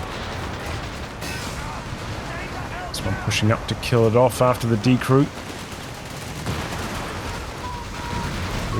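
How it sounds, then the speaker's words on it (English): A long-range artillery barrage in the video game Company of Heroes 3 lands as a quick cluster of sharp blasts midway through, over battlefield noise and a commentator talking. "Quite a lot of scatter on that long-range barrage"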